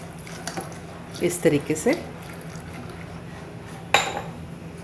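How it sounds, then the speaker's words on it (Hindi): A whisk clinks and stirs in a pan of rabri for shahi tukda as liquid goes in bit by bit, a short burst of rhythmic metal scraping and one sharp clink, under a brief spoken phrase. "इस तरीके से विस्क करके अपन थोड़ा थोड़ा करके हम डालेंगे और हिलाते जाएंगे इसको"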